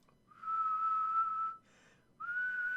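A person whistles a steady tone in imitation of a film character, holding one long pitch, breaking briefly, then starting again on a similar high note, clear and fairly quiet with nothing else around it.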